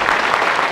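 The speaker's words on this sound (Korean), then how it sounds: "박수 한번 주십시오" Brief burst of crowd applause at a large talk-concert event in a hall, loud and dense with no pause.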